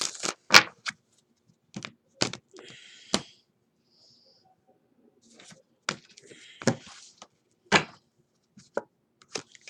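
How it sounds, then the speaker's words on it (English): Cards are shuffled and tapped in scattered sharp clicks and flicks, close up, with brief soft rustles and breaths between the bursts. "let's get one more shuffle."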